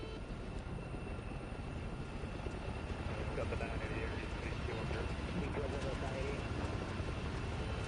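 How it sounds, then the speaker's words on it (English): A modded helicopter in a flight simulator produces a steady, dense engine and rotor drone that holds at a constant level throughout, with someone talking over it. "It's probably the sickest chopper with a mod that I've seen."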